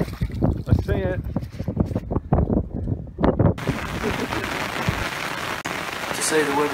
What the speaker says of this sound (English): We had 41 mile an hour winds, heavy rain, and at some point hailstones.